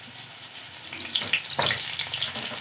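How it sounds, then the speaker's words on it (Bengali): Spiced pointed gourd slices dropped into hot mustard oil, a close sizzle rising into a louder fry with crackles, steady after the pieces go in. "তেল খুব ভালো করে গরম করে নিয়েছি, দিয়ে দেবো এবারে মশলা মাখানো পটলগুলো।"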